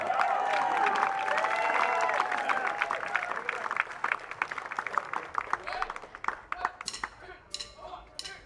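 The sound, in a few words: audience applause for the horn section at a concert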